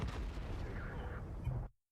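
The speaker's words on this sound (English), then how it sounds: "he's now firing heat ammunition" A tank cannon firing HEAT ammunition in World of Tanks, heard as a dense, booming blast and its rumbling tail. It lasts under two seconds and then cuts off abruptly.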